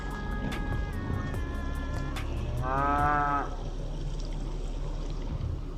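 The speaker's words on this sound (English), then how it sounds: "Where's the cow, Heather?" A cow moos once, a clear mid-length call heard at moderate distance over steady background rumble at a camp in Uncompahgre National Forest, western Colorado, with no speech over it.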